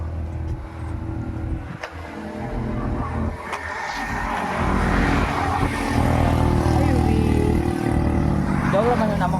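Steady drone of highway traffic, with cars and motorbikes passing close by. The rumble swells louder in the second half, and a voice speaks over it at times.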